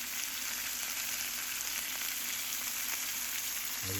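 Sirloin steak sizzles in rendering fat with olive oil and rosemary, a close, steady crackling hiss with no pauses and no voices.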